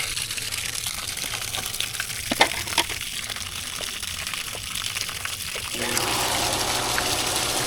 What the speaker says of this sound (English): I could probably backwash the filter while I'm out here.